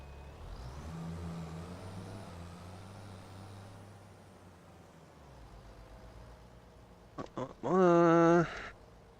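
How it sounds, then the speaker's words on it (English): In a farming video game, a Deutz-Fahr tractor engine idles with a steady low rumble that gradually fades, followed near the end by a loud, brief horn-like blast. "I will take the Deutzfahrt, because nobody else is going to be needing a tractor for anything"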